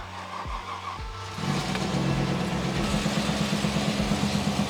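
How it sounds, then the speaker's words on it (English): A car engine idles with a few blips, then rises into a steady, sustained rev held close and loud, with no voices over it. "let's give her a bit of a rev"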